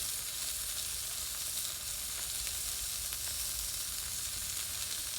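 Tri-tip and sausage cook on a charcoal BBQ grill smoker, giving a steady, even hiss of sizzling fat with faint crackles, continuous and close, without talk.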